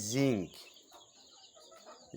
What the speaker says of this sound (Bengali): মুরগির বাচ্চাগুলোকে